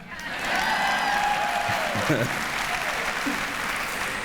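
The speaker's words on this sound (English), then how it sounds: "I thought I'd get an applause for that." An audience at a school district event applauds steadily after a pause, a broad wash of clapping with a voice briefly speaking over it partway through.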